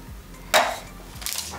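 Seared beef for birria tipped from a pan into a pot, heard as one sharp metallic clank of cookware followed by a softer scraping clatter a moment later.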